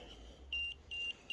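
An EMF meter held right next to a phone gives off three short, high electronic beeps in an even pulsing rhythm, loud and close, over a faint low hum.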